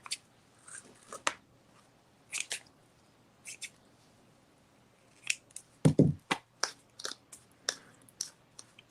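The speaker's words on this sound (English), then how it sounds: "Okay, scissors." Scissors snip through ribbon while a bow is being tied, a series of short, crisp cuts in quick clusters, close and fairly quiet, with a soft rustle and a low thump partway through.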